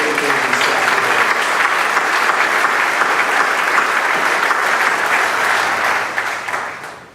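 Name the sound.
round of applause for educators and staff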